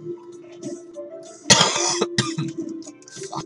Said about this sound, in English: my cough is really bad